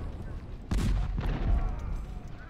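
Musket volley in the Ultimate General: Civil War video game, a sudden loud crackling burst of many shots fired together, followed by a rumbling, rolling echo of further scattered fire that fades out.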